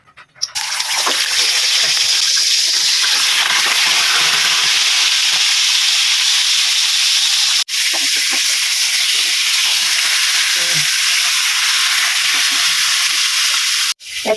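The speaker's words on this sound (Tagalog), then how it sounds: "piprituhin ko muna yung tilapia" Tilapia frying in hot oil gives a loud, steady sizzle and hiss. The sound runs unbroken for most of the stretch, with brief clatters near the start, middle and end.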